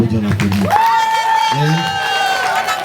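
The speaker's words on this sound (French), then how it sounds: "Ah, on applaudit." Guests at a wedding ceremony applauding and cheering amid lively crowd noise, with whoops, voices and a sustained tonal whistle or horn over the clapping.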